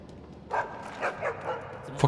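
A dog in the video game Assassin's Creed Chronicles China gives a run of about five sharp yapping barks, evenly spaced and moderately close, with a faint background behind them.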